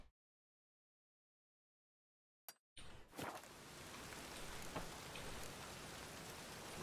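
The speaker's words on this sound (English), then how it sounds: "Mr. Bolivian, you must be mad running around in this rain" Rain in the video game The Witcher 3, a steady hiss of falling rain rising after a silent stretch and a brief sharp transition, continuing evenly and moderately loud to the end.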